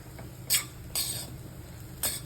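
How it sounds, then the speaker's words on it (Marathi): A spatula scrapes and stirs motichoor laddu mixture being sautéed in a pan over low gas, giving three brief, fairly close scraping strokes spaced apart over a quiet background. "असं पूर्ण व्यवस्थित परतून घ्यायचं बघा बारीक गॅस करूनच"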